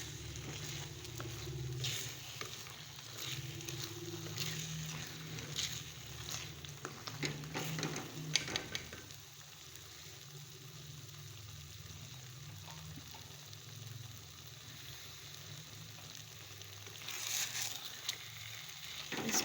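Flour and milk are stirred and roasted in a pan for date halwa, a soft, steady sizzle with intermittent scraping of a spoon against the pot, fairly quiet and without talk.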